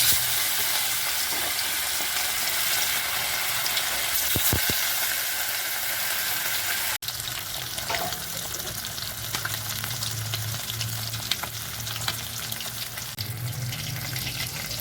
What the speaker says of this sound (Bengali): মাছগুলোই আগে থেকে নুন হলুদ মাখিয়ে রেখেছিলাম, এবার তেলে দিয়ে দেব